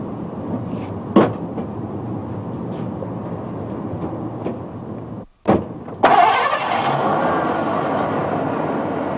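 A car engine cranks and starts after a brief silence, then settles into a loud, steady idle that continues to the end, following a low indoor rumble with a couple of thumps.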